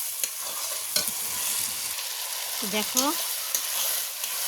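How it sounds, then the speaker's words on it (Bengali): Turmeric powder and spices are sautéed in a pan, with soft sizzling under a spatula's occasional scraping stirs; quiet and close, with a brief spoken word and a faint voice partway through. "হলুদ গুঁড়ো, একটু কষে নেব।"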